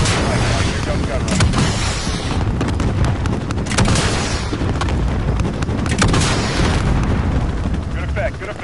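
An airstrike in the Modern Warfare video game campaign pounds the area with dense, continuous booming explosions and rumbling impacts, loud and close throughout, under radio chatter.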